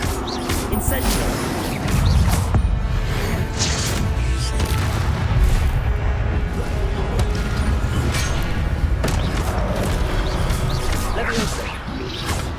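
Incendio fire spells and other combat spells fire repeatedly during a Hogwarts Legacy magic duel training session, a dense, continuous barrage of whooshes, crashes and booms layered with game music.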